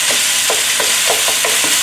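Ginger, garlic and chicken stir-frying in a hot frying pan, with a steady broadband sizzle and regular scraping strokes of a spatula about every third of a second, close and fairly loud, with no talk.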